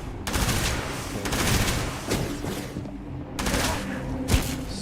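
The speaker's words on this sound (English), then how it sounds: "Get him with that minigun." Bursts of rapid minigun fire in the video game Starfield, loud rattling volleys in several separate runs with brief gaps between them, close and dominant.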